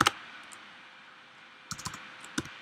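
A username is typed on a computer keyboard in two short flurries of soft, close key clicks, separated by a quiet pause with faint background hiss.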